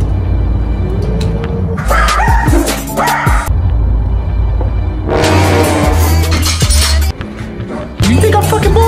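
A dog barks in loud bursts with whimpers and yips between them, close and intermittent over a low rumble.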